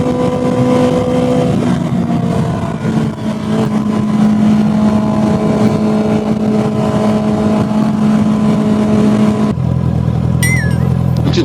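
A classic Husqvarna motorcycle heard from a moving vehicle on a coastal road, steady loud engine drone with wind roar throughout, ending in a quieter passage with a short high squeal.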